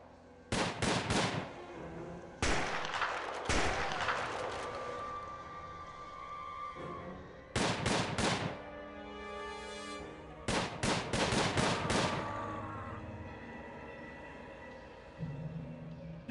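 Bursts of gunfire from the Prison Architect video game, rapid volleys repeating in four separate clusters with quieter gaps between them, loud and close, with no talking over them.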